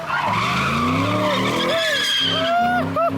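A car spins with tires skidding and squealing loudly at an early-morning street takeover, rising and falling screeches over engine roar while excited voices shout nearby.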